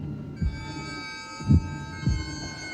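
A slow, low heartbeat thud from a horror film soundtrack, three heavy beats spaced unevenly over a sustained droning hum.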